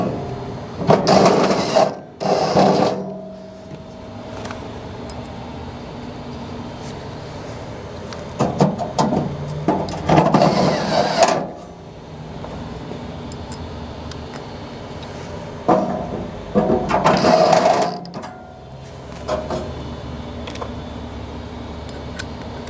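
A screwdriver drives several screws to secure a millivolt pilot assembly inside an old Napoleon fireplace, heard as close, loud whirring bursts of a few seconds each, separated by quieter pauses.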